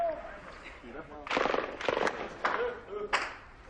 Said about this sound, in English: That's mortar. That did not sound good.